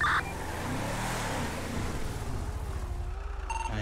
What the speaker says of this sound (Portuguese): Tá freio, tá freio, tá dando ré sozinho